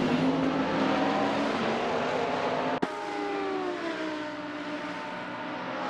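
McLaren and Lamborghini GT3 race cars in a sim racing game, engines droning steadily at high revs along Virginia International Raceway with one sharp click midway and engine pitch shifting as gears change.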